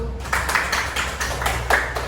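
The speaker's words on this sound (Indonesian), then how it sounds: "tepuk tangan untuk kelompok 1" A classroom group applauds a student team with a short burst of scattered, fairly close hand claps over faint background chatter.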